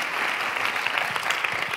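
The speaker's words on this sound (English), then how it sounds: "A big, big round of applause for Harold." A short burst of dense, steady applause from a conference audience, loud and continuous throughout without pauses.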